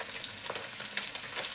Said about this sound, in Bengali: এই জায়গায় মাছ ভাজা